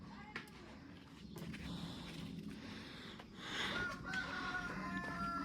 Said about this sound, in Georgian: ეგ მამალი კი არა, ძაღლია.